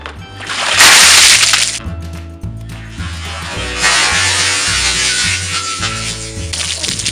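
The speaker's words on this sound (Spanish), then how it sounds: "voy a echarme el agua por encima" A bucket of ice water is poured over a person during an ice bucket challenge: a loud, dense splash of water and ice, then a longer sloshing, splattering stretch, all over steady background music.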